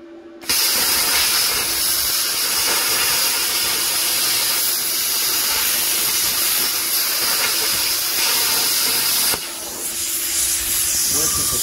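A Tooliom 50 amp plasma cutter tracing a circle gives a loud, steady hiss that runs almost without a break, drops briefly near the end and then picks up again.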